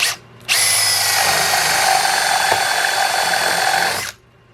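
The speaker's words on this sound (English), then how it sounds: "now we're going to drill again." A power drill bores into wood with a custom-sharpened spade bit, a loud steady whine running about three and a half seconds between brief quiet moments at the start and end.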